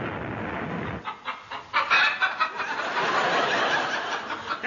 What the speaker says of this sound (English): That's no duck, that's a chicken.